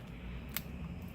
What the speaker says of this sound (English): I'm cutting this part because it's on the way of the